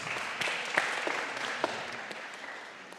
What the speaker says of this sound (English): A big applause for you,